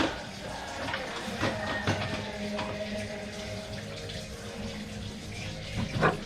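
Tap water runs steadily into a sink while items are washed under it, with faint clatter and handling knocks over the continuous stream.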